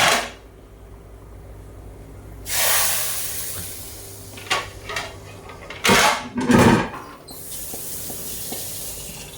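A hot mustard-seed tempering is poured into a pot of olan curry, giving a sudden hiss and spatter and then several sharp sizzling bursts among clinks of pots and utensils.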